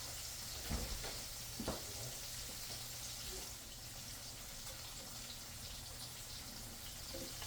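Garfish nuggets coated in fish fry mix sizzling in hot grease, a steady, fairly quiet hiss of frying with a couple of soft pops early on.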